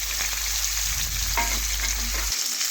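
Small charapona carp fingerlings sizzle in hot oil in a pan, a loud, steady, even crackle running uninterrupted and close.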